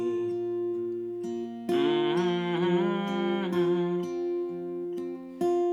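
An acoustic guitar plays the melody of the worship song Who Else, with single picked notes over ringing strummed chords in a slow, steady rhythm, alone and close.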